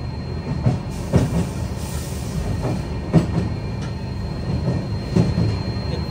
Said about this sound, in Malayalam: ഡിണ്ടിഗൽ ജംഗ്ഷൻ റെയിൽവേ സ്റ്റേഷനിലേക്ക് ഇതാ തേജസ് എക്സ്പ്രസ്